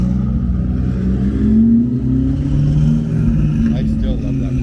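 A classic Jaguar E-Type engine idling and gently revving at a car meet, a low throaty rumble rising and falling in pitch, heard close with talk over it.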